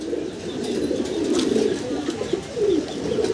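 Pigeons coo repeatedly in low, throaty, overlapping calls, close by and fairly loud, with no talking.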